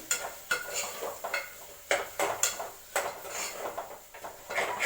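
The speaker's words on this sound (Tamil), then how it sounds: "இதை நல்லா கிளறி விட்டுக்குங்க." Someone stirs a pot of vada curry kurma with a metal utensil, the spoon scraping and knocking against the sides in a steady, repeated rhythm, close and clear.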